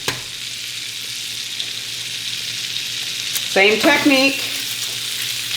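Eggs frying sunny side up on a hot griddle give a steady close sizzle throughout, and a brief louder burst of crackling spatter arrives near the end.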